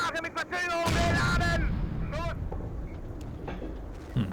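StuG III assault gun cannon in the Steel Fury tank game firing armor-piercing shells, a heavy boom followed by rumbling decay while someone talks over it.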